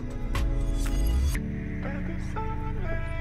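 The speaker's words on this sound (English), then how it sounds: "you can hear the fan is running right now" A Trapo Oxtra air purifier fan runs with a steady, close whooshing drone. Changing tonal hums and harmonic whines sit over the airflow noise, and no one talks.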